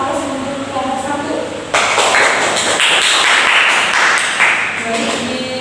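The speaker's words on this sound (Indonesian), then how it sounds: "Berikan aplaus untuk kelompok 1." A classroom gives the presenting group a round of applause, a dense burst of clapping that starts abruptly and carries on for a few seconds, with a voice speaking before it.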